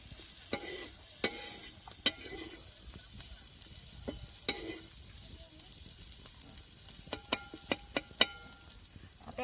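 Green chilli thecha sautés in a pan over a wood-fired stove, giving a faint steady sizzle broken by sharp clicks and scrapes of a stirring utensil, with no speech.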